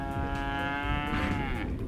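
Cattle at a registered Brangus bull development operation low continuously through the whole stretch, a loud, sustained bovine moo with steady harmonic tone and no talking.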